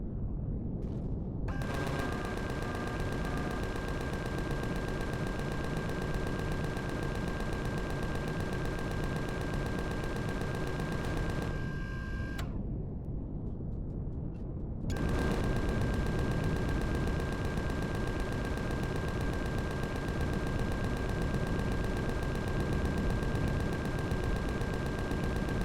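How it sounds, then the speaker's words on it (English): Gatling guns firing continuously in Empyrion Galactic Survival, a dense unbroken roar of rapid shots lasting many seconds with one brief pause, steady and loud. "We can change to the Gatling guns actually."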